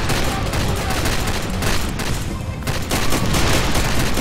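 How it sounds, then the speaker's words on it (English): Dense, continuous gunfire from the Far Cry 2 video game, a sustained fusillade of rapid shots and bursts running loud throughout with no pause. "We just have to stop shooting each other, then it's fine."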